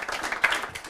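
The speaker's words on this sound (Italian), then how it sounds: "Fate un applauso al capitano." Brief burst of audience applause for a football team captain at a Lega Pro pitchside event, scattered claps rising and falling at moderate volume over less than a second, with no voices.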